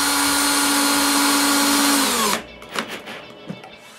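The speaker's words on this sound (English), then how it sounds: "I drill a hole on the shovel locking pin and try it." A power drill bores a hole in a metal shovel locking pin, a steady high whine for about two seconds that winds down and stops, followed by a few faint clicks and handling knocks.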